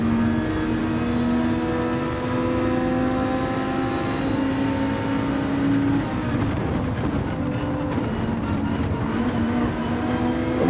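A racing video game car engine, an Audi, drones with a steady high-pitched whine that holds for several seconds and then breaks into rougher, fluctuating revving as it downshifts, loud and close with no talk.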